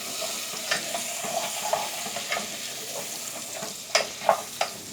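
Popcorn kernels cook with butter in a pan, giving a continuous crackling sizzle with scattered sharp ticks and a few louder pops toward the end.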